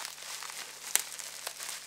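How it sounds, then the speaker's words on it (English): Plastic crinkles as a taped AliExpress postal bag is opened, quiet rustling close up, broken by a couple of brief sharper crackles. "Let's open this bigger package."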